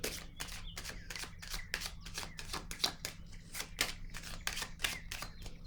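Card shuffling during a card reading: a dense run of rapid riffling bursts, close and steady, roughly a dozen crisp flutters over a low background hum, with no talk.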